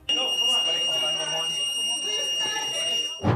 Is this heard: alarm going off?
yes